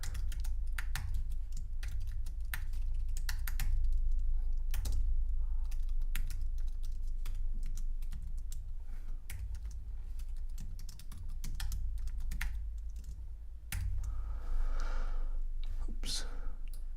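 Typing on a computer keyboard, a steady run of rapid keystroke clicks close up, with a brief pause partway, under a faint whispery voice and low background hum.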